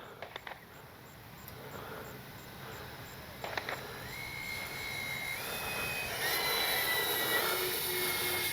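A Freewing AL37 RC jet flies an approach, its ducted-fan whine rising and sweeping steadily louder as it nears. A few brief clicks are heard early on.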